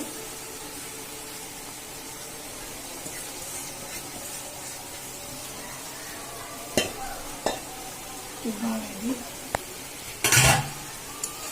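Small fish chorchori is stirred in a pan, giving a soft, steady sizzle with occasional utensil clinks and scrapes, and one louder knock or rattle near the end.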